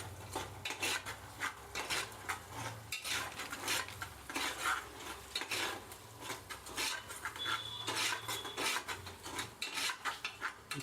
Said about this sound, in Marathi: आता हे मिश्रण थोडं मिक्स करूया